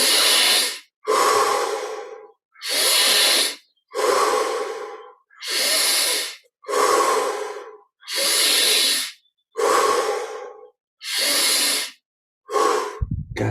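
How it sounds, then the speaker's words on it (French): Slow, deep breathing during a guided meditation: about ten long, loud, close inhalations and exhalations in an even rhythm, each airy breath separated by short silent pauses, with no talking. "Essayons d'aller encore un peu plus loin dans l'amplitude des poumons, donc dans l'inspire à chaque fois."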